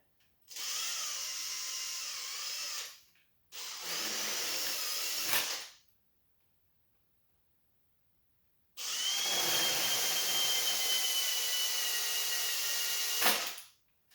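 A power tool drills out rivets on the rear louver of a Honda Civic EF9/ED7, in three loud, sustained whirring bursts separated by short and longer silences.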